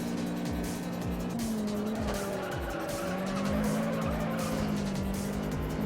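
A race car in the racing game Juiced roars steadily as nitrous boost kicks in, a sustained high engine whine rising in pitch over repeated shifting sweeps and tire noise.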